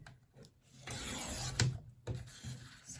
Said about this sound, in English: I am going to trim off the excess